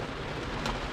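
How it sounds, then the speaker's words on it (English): A heavy downpour on a road trip, a dense, steady hiss of rain spattering nearby surfaces, continuous and fairly soft for a brief moment with no one speaking. "it's raining like crazy"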